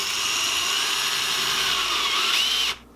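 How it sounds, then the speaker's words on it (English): Power drill running steadily as a bigger bit enlarges a hole in a carbon battery rod, a loud continuous whine with a rising pitch near the end before it stops abruptly. "Okay, so now I'm going to enlarge the hole with a bigger drill."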